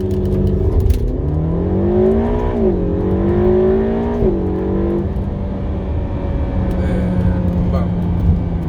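A Ferrari California T launches under launch control, its engine rising through several revving climbs with gear changes, then settling into a steady cruising hum, loud and close inside the cabin.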